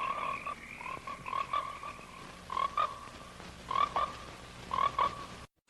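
Frogs croak from a movie trailer's soundtrack, a chorus of repeated short, bright trilling calls in clustered bursts, fairly close and clear with no talk.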